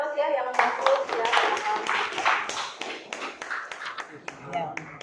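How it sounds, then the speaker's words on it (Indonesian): A classroom of students gives a round of applause, brisk overlapping claps near and loud at first, then thinning and trailing off over several seconds, with a few voices mixed in. "Kita beri aplaus ya yang masuk ya."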